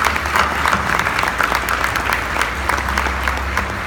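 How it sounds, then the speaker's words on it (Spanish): Audience applauding panelists at the close of a 2018 CIO & IT conference session, steady dense clapping filling the room at moderate loudness, with no voices over it. "Un aplauso para ellos, por favor."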